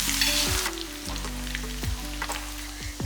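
Crushed garlic cloves frying in hot oil with mustard seeds and curry leaves for a spicy chutney tempering: a steady, close, loud sizzle with crackling pops and repeated stirring scrapes against the pan, no voices.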